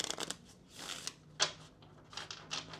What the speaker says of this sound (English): Let's go ahead and shuffle these cards here, split the deck